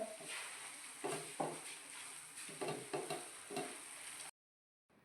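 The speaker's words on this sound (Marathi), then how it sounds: "टोमॅटोची प्युरी परतून झाली आहे त्यामध्ये खोबरं तिळाची पावडर केलेली टाकून घ्यायची मिक्स करून घ्यायचं" Ground coconut and sesame powder is stirred into sautéed tomato puree for a Maharashtrian soybean gravy, a dense close sizzle with repeated scraping strokes of the spoon, ending abruptly.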